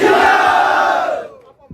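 Crowd at an outdoor political rally welcoming a former MLA in a village, shouting a slogan in unison, a loud massed chant that swells and then cuts off abruptly, followed by near quiet.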